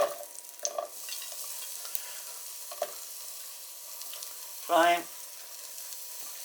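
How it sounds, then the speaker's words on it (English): Onions hitting hot olive oil for an Irish lamb stew, a soft steady sizzle with a few clicks and a brief voice partway through. "let it just start to heat a little bit, and we add the onions"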